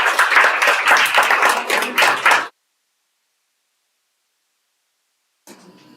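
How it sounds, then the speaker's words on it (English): An audience at a company Independence Day event claps, a loud burst of many hands for about two and a half seconds that cuts off abruptly into silence, followed by faint room noise. "A big round of applause, please."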